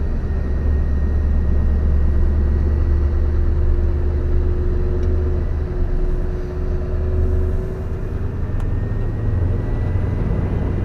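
A Scania truck with a 730-horsepower engine cruises along, its deep, steady engine drone and road rumble filling the cab at a constant loud level without breaks or talking.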